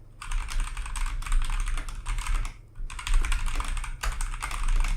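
A cheap, light $23 plastic mechanical keyboard is typed on in quick bursts of clacky keystrokes, close and hollow-sounding, with brief pauses between runs.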